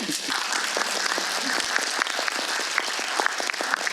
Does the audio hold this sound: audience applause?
yes